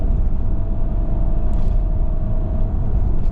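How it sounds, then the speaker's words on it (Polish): A car accelerates in third gear from about 40 toward 100 km/h, a steady loud low engine and road rumble heard from inside the cabin with no talk. "ustawiam trzeci bieg i teraz przyspieszam do 100"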